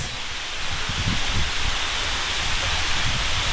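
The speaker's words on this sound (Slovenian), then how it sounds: "Glejte, okoli 8 metrov visok slap potoka Doblarec." An 8-metre waterfall on Doblarec creek in a Slovenian gorge roars as a steady, dense rush of falling water, loud and close throughout with no voices.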